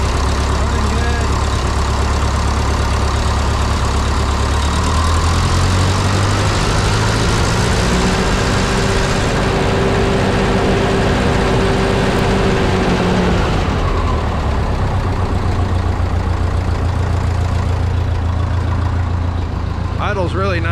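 A Ferguson TO-30 tractor engine idles steadily and loudly up close, a continuous low rumble with a pitch that shifts briefly in the middle, while a voice speaks over it.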